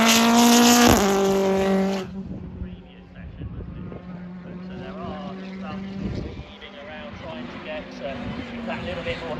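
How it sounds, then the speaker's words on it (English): A Toyota Corolla touring race car at Snetterton circuit roars past nearby, a high engine note sweeping down as it passes, then fading into a steady drone as other cars follow under a commentator's voice. "First comes the Toyota Corolla of Ronan Pearson."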